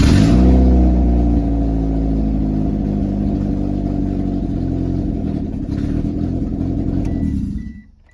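A Mitsubishi Eclipse fitted with a swapped K24/K20 engine fires up and revs loudly up close, then settles into a steady, rumbling idle before cutting off abruptly near the end.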